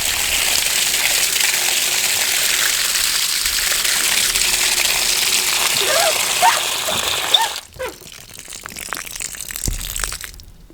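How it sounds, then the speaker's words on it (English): Water gushes hard from a newly installed frost-free wall hydrant, a loud, continuous rushing hiss for about seven seconds before it abruptly cuts off to quieter drips and handling noise. "We're ready to get some water turned on and test this thing out."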